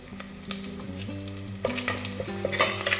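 Onions and curry leaves fry in a pan with a steady sizzle, joined by occasional stirring scrapes that grow louder toward the end, alongside a coconut rice and mutton curry preparation.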